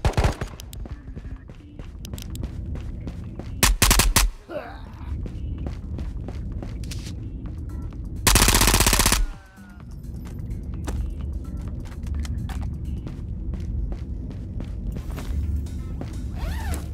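MP9 submachine gun fire in a first-person shooter video game, with rapid bursts of shots scattered through the clip and a few louder blasts, mixed with footsteps and movement sounds.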